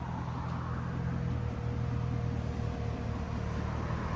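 A 2011 BMW X5 with a 4.4L V8, X-pipe exhaust and no catalytic converters drives off, a steady deep burbling exhaust drone with harmonic tones at moderate level.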